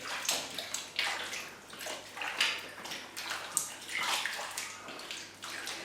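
Seitan dough kneaded by hand in a bowl of water, giving continuous close sloshing, squishing and gurgling with repeated surges as the dough is worked, no talking.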